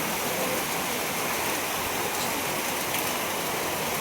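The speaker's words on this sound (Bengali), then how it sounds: "দেখো বাইরে প্রচণ্ড বৃষ্টি" Steady, dense rain pours down without a break, a loud continuous hiss filling the whole clip.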